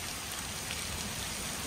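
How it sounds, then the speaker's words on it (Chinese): Heavy rain pours steadily onto a seventy-year-old rural house in the mountains, a dense, even hiss that stays close and constant with no voices over it. "这个雨太大了吧"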